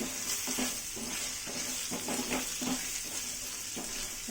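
Taro root (arbi) frying in a pan with Kashmiri red chilli and salt, with a constant close sizzle and repeated spoon scrapes stirring through the pieces, no talking.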